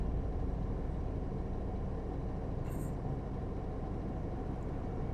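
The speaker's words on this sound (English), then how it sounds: "I suppose we might as well give you a chance to hear this car sing." A Citroen GSA engine drones steadily from inside the cabin while driving uphill, a low continuous hum with road noise that holds at an even level throughout.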